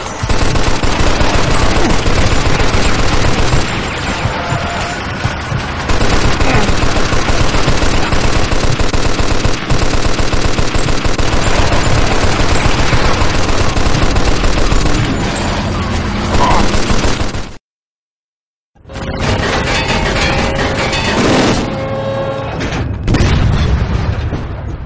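Heavy gunfire and artillery blasts in a Mafia II battle: dense, loud machine-gun bursts and booms fill the scene almost without pause, break off for about a second, then pick up again just as intensely.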